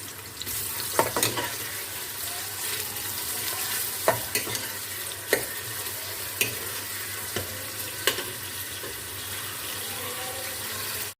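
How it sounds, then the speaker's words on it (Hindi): Chopped onions fry in hot cooking oil in a pan for a village-style mixed saag dish, giving a steady, close sizzle with occasional sharp stirring clicks and scrapes. "इसमें हम प्याज डालेंगे और हम प्याज को फ्राई कर लेंगे"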